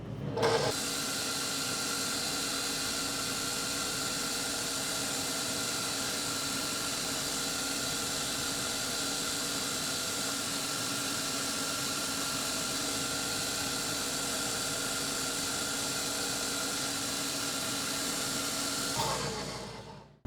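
An electric mixer whips butter, yeast, milk and dry ingredients, giving a steady, even motor whir that holds for about twenty seconds before switching off, close and moderately loud with no talking.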